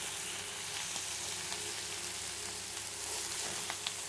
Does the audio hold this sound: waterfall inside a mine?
no